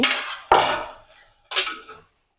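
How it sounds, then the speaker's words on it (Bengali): Pumpkin leaves and young Malabar spinach stirred in a metal pot: three loud, close metallic clanks of the spoon against the pot, each ringing out and fading, with silence between and after them. "শাকটা একটু সুন্দর করে একটু নেড়ে চেড়ে দিব।"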